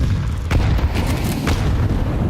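A grenade explodes in a Counter-Strike match at a professional esports event, heard as a dense low rumbling boom that stays loud and steady. Fainter crackling bursts are scattered through it.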